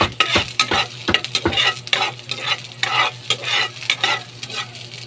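Sardines browning in a pan for a sponge gourd dish make a close, bright sizzle broken by a quick run of spatula scrapes and stirs, with no talking.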